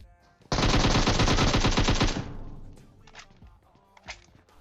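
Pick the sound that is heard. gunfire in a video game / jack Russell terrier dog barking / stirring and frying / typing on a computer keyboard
gunfire in a video game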